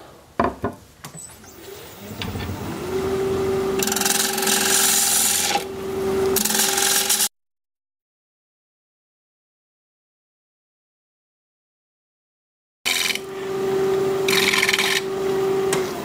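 A wood turning tool scrapes and cuts a hardwood bowl spinning on a lathe, a loud continuous rasping with a steady motor whine, broken by a few seconds of silence before the cutting resumes.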